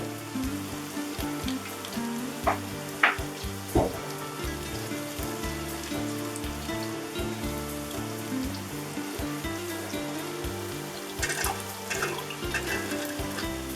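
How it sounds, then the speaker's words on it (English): Water with a coarsely chopped tomato, garlic cloves and chickpeas bubbles and sizzles in a pot for a vegan koshary, a steady simmering hiss with occasional clinks and pops, no voices. "Water, just 1 tomato, coarsely chopped, couple of cloves of garlic, and then goes the chickpeas"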